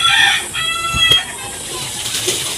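A chicken clucks and squawks loudly and close by at a pineapple patch where it laid eggs, in a short excited burst with outdoor noise.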